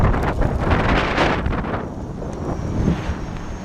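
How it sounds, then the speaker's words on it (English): Strong wind buffets the microphone in a steady broadband roar with gusts, loudest early on and easing slightly before swelling again, with no voices. "It's been very windy all day today."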